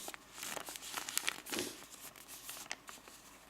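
Sheets of origami paper crinkle and crease in quick, light bursts, with soft rustles and a sharper crumple in the middle, close by and fairly faint, with no talking.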